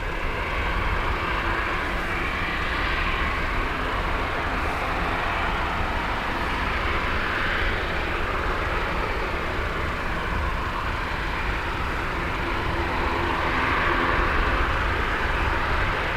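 A loud ATR turboprop aircraft at Dublin Airport gives a steady, broad engine roar with a whining tone, holding at an even level throughout with no talking.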